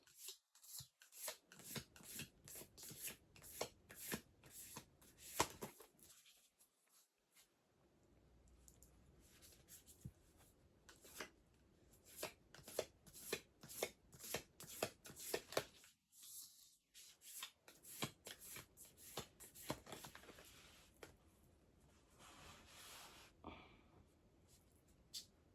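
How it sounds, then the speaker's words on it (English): A deck of Starseed Oracle cards is shuffled close up in quiet, crisp bursts of riffling and sliding, broken by short pauses and with no talking. "these are all good and shuffled."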